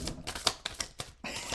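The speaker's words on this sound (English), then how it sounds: "Let me shuffle and then shuffle some more and see if one pops out." A deck of cards is shuffled in a quick run of five or six short, crisp slaps and riffles, close and quiet.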